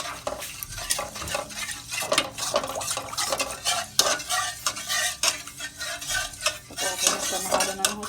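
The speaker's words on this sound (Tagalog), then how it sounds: "Haluin." Kimchi mixture with flour stirred by hand in a bowl or pan, a steady run of scraping, clinking utensil strokes with wet squelching, close and continuous throughout, no voices.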